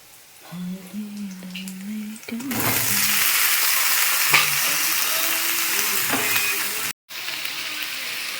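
Vegetables with turmeric sizzle and hiss in a hot pan, the frying noise swelling after a quiet start and continuing steadily with a brief cut, while a voice and background tones sit underneath.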